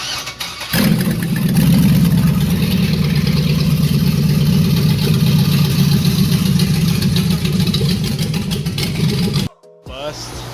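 A 6.2 truck engine mounted on a run stand fires up and runs steadily at a loud, close, rough drone for about nine seconds, then cuts out abruptly near the end.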